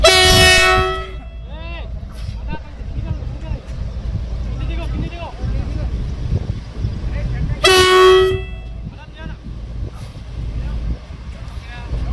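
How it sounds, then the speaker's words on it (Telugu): A train horn blows on a trial run of the new railway line at Chinna Kodur, with a loud sustained blast at the start and a second blast around eight seconds, over steady rumbling and crowd murmur. "రైలు కూతతో చిన్న కోడూరు మారుమోగింది."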